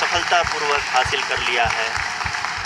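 Applause breaks out in mission control during the Chandrayaan-3 lunar landing, steady clapping from a crowd running under a voice speaking throughout.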